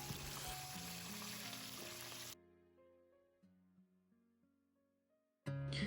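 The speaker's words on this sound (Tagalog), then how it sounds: "saktong malapit na din maluto yung ating pritong isda" Fish frying in a pan of oil for a home-cooked Filipino meal, a dense crackling sizzle that runs steadily for about two seconds, then cuts away to quiet tonal sound before a brief loud burst at the end.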